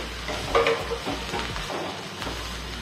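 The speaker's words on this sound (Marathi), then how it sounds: "त्यात आता आपण हे भेंडे टाकून घेऊ. परतवून घ्यायची चांगली।" Okra stir-fried in a pan gives a continuous close sizzle broken by several scraping stirs and tosses of the spatula, with no voices over it.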